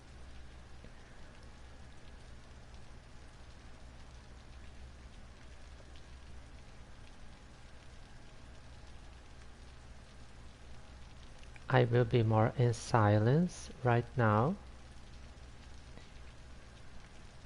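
Rain falls steadily in the rural area of a Cities: Skylines city, a soft continuous hiss throughout, with someone speaking briefly near the end.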